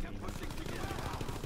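Rapid gunfire from a multiplayer shooter game featuring an Orso SMG, a dense burst of repeated shots running loud and steady through the whole moment with faint voice underneath.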